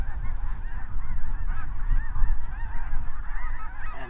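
A large flock of snow geese circles overhead and honks constantly. Many overlapping calls form a dense, loud, chattering chorus with no break.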